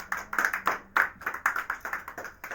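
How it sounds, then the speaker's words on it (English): A church congregation claps together in a quick, steady rhythm, a run of close, fairly bright hand claps lasting a couple of seconds with no talking. "Give Jesus a clap."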